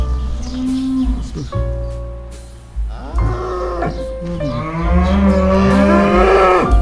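Swiss dairy cows moo repeatedly on a farm in Switzerland, several long, loud bellowing calls overlapping one another close by, with no talking.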